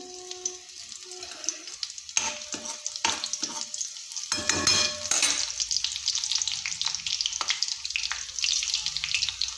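Chili dropped into hot oil for a samosa filling sizzles and spits loudly, with stirring and clattering throughout and a sharp burst of frying near the middle, no talk.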